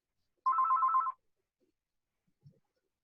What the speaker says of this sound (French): Je ne peux pas empêcher le téléphone de sonner.